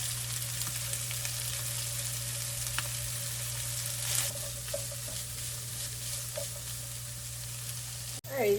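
Sausage, peppers and onions fry in a pan with a steady, close sizzle and occasional stirring scrapes, continuing throughout with a louder clatter at the end.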